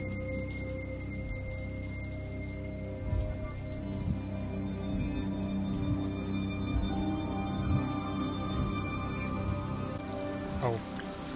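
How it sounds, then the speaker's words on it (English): Rain falling on a surface, played in reverse, a steady dense patter with swelling, sucked-back drops and a rising streak near the end. "Oh, the rain, it's going in reverse."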